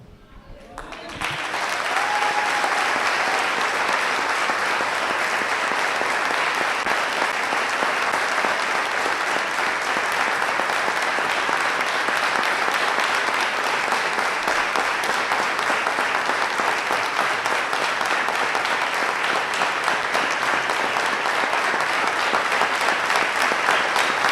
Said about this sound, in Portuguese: pedir 1 minuto de salva de palmas, de agradecimento ao Senhor, em memória do pastor Marcelo